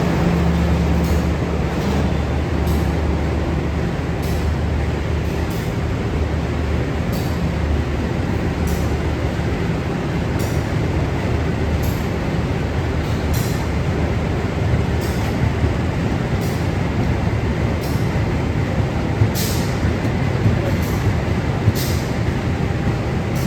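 Penataran commuter train departing Lawang station, heard from on board as a steady rumble of wheels and rails with faint periodic clicks and hiss, continuous throughout with no talking.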